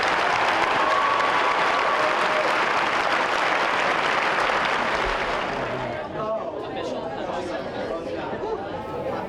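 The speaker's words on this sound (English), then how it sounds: "Let's give Mrs. Alderson one final round of applause and appreciation." An audience at a teachers' hall of fame ceremony applauds an honored teacher, dense sustained clapping that fades as chatter and a voice rise near the end.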